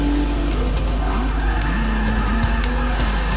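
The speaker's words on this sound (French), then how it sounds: "Oh le dérapage de merde que j'ai fait." A race car in Forza Motorsport 6 skids, a loud steady engine roar with thin tire squeal threading through it, constant and close throughout.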